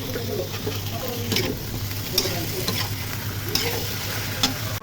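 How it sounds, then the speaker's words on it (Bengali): Chicken pieces frying in a pan (kadai) with onions, a steady sizzle broken by the scrape and clatter of stirring at intervals, heard up close with no talk. "এখন সব পেঁয়াজের মধ্যে মাংস দিয়ে ভেজে নিব"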